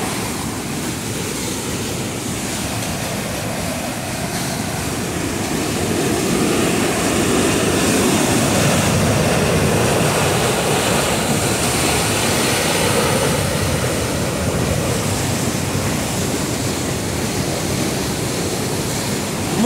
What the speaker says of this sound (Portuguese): Olha a força da água. Muita água mesmo, força.